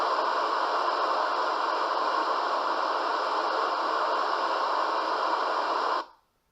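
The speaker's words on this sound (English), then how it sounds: "That's pink noise." Generated pink noise plays as a steady, loud broadband hiss for about six seconds, then cuts off abruptly into silence.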